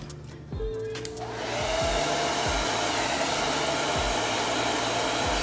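A hair dryer switches on and blows heat steadily over wet chalk paste on a re-purposed item, with a couple of clicks and a brief spin-up before it settles into a loud, close, continuous whoosh.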